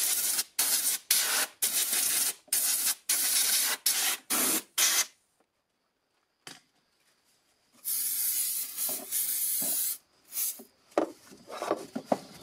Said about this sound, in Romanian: o să-l curăț cu spray de curățat frânele ca să fie curat